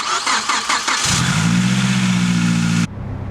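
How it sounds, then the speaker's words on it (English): A Mazdaspeed3 with a wrecked passenger-side motor mount cranks for about a second, then fires and settles into a loud, steady idle before abruptly cutting off. "When I start it, it's probably gonna shake really rough."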